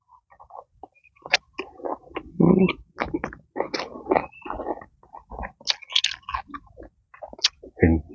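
Someone eats grilled carp with spicy bean salad, chewing and biting in close, irregular bursts with soft wet mouth sounds and no talking.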